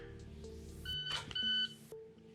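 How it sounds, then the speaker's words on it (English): A shot timer sounds twice during a dry-fire pistol drill, giving short, piercing electronic beeps close together, set against a low steady background hum and a soft click. "the beep was coming before the gun was on target"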